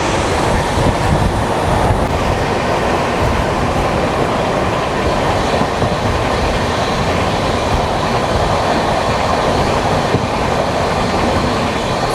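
Superfast express train number 12164 running on rails from Chennai Central to Mumbai LTT, heard from on board as a loud, steady rumble and roar of wheels on track that continues without a break and with no talking.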